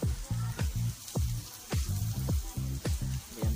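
Food sizzling on an indoor grill, with repeated sharp crackling bursts and pops over a steady frying hiss, close and fairly loud, no talking.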